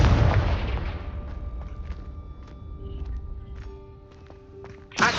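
A Confringo blast spell goes off in a Hogwarts wizarding video game, a loud booming burst at the start that fades into a ringing, crackling tail with scattered pops, then a second sharp burst near the end.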